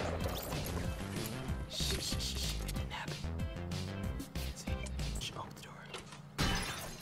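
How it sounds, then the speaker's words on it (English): Glass shattering in Fortnite Battle Royale among busy game noise, with a cluster of sharp crashes and clattering bursts over a rhythmic music bed, while a player talks throughout. "Oh, glass breaking."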